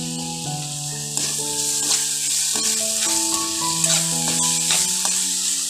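Steady close sizzling of onions and grated potato frying in a pan for a bread filling, a continuous hiss under gentle background music.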